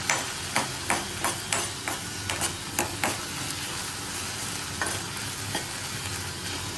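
Vegetables mixed with chili and turmeric in a pan give a rapid series of sharp spoon knocks and scrapes against the metal over a constant sizzle, close and loud, then fewer strokes toward the end.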